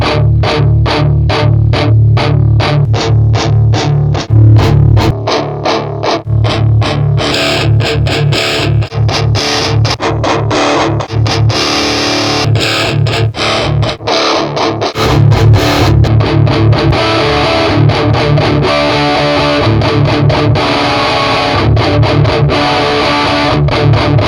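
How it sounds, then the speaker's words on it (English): An electric guitar plays through the Day Tripper Overdrive effect on an M-Vave Cube Baby effects processor, a loud, gritty overdriven tone with strummed chords and riffs sustained throughout. "Day Tripper Overdrive."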